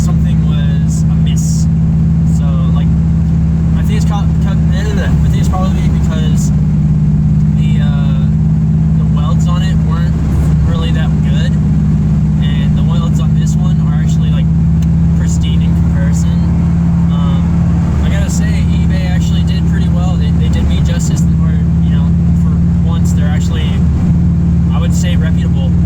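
A 2002 Subaru Impreza WRX with a DNA Motoring turbo-back exhaust gives a steady, deep, quiet rumble heard from inside the car, droning continuously beneath a person talking.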